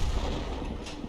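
A tank cannon fires in a tank video game, giving one muffled boom followed by a short, rumbling decay with no voices.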